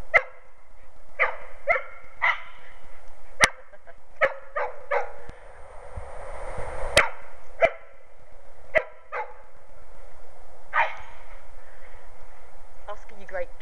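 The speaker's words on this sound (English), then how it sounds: "she's barking" A dog barks repeatedly in sharp bursts, outdoors in an open field where several dogs are being run and play-chase, with the barks spread irregularly across the scene and a person's voice talking now and then.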